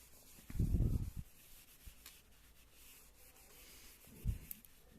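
Writing being rubbed off a board in a maths classroom, a short burst of soft scrubbing near the start and a brief second swipe near the end, quiet and close, with no talking.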